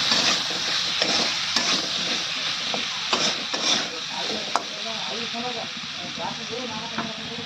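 Ginger paste frying in a pan hisses under repeated stirring and scraping from a spoon, with a few sharp clinks against the pan and a faint voice in the background.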